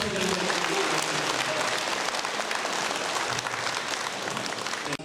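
Steady audience applause at a Gwangmyeong city civic gathering of community leaders, dense and continuous for about five seconds, cutting off abruptly at the end.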